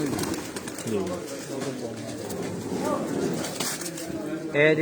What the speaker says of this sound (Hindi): तो दोस्तों ये भी सारे परवाजी कबूतर हैं।